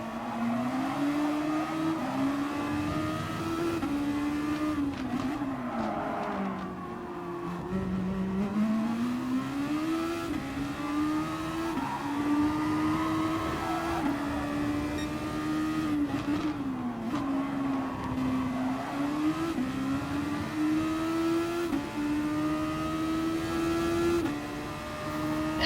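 Super Formula race car engines at Interlagos in GT Sport howl continuously, their pitch rising and dropping through gear changes and corners, loud and close with other cars audible nearby and no speech.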